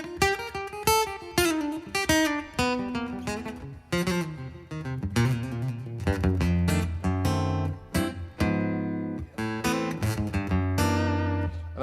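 An electric guitar runs through a Fishman Pro EQ Mini pedal, playing a busy, fuller-toned phrase of quick picked notes and sustained chords that ends in a ringing low note, close and with no talking.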